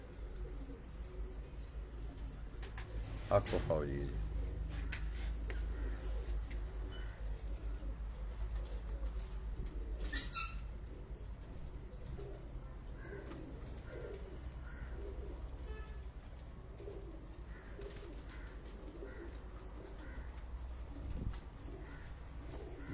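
Sialkoti pigeons of the Batera breed coo softly under a constant low background hum. Someone speaks briefly, and a few sharper chirps and rustles come through now and then.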